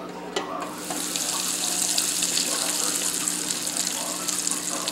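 Frozen cheese balls deep fry in hot oil with a loud, steady hissing bubble that swells after a brief click and keeps up without pause.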